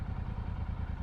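Old motorcycles and cars from a vintage vehicle gathering rumble past on a road, a steady low engine drone that fills the whole short moment, fairly close.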